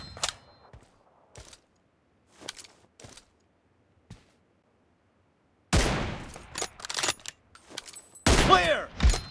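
In BGMI, an M24 sniper rifle fires in the video game as sharp, separate shots spaced apart. Louder bursts of gunfire and clatter crowd the last few seconds.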